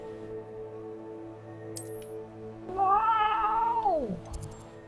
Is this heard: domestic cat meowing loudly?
yes